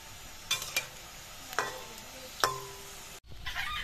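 Food frying in a pan gives a soft background sizzle, broken by a few sharp clinks and scrapes of a utensil against the pan, then a brief dropout before the sizzle returns.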